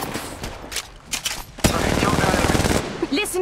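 Automatic weapon fire in the battle-royale shooter Apex Legends Mobile, set at the Encore Galore concert party, with a few scattered shots giving way to a loud sustained burst, plus brief game voice lines.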